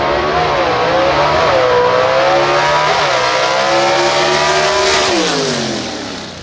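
A 1955 Chevrolet gasser drag car makes a bye run at a dragstrip, its engine roaring loud and steady as it pulls through gear changes with rising pitch, then fading slightly as it moves away.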